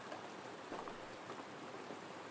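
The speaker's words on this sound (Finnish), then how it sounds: "Täällä on sataa vettä" Steady rain falls in the video game Road to Vostok, a dense, even hiss with faint droplet patter throughout and no other clear sounds.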